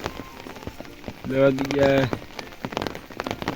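Steady rain patters on a hard surface, with a short tonal sound rising briefly over the drumming midway through.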